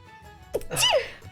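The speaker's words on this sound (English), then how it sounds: "I gotta do a sneeze." A single person's sneeze, a sharp intake followed by a loud burst, heard close up in a quiet room.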